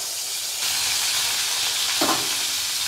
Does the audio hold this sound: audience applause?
no